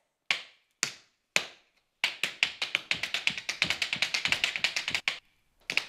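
Tap shoes with metal plates doing a shuffle step on the floor: three single sharp taps, then a fast run of rapid clicking shuffles, ending in a few more taps, close and clean with no voices.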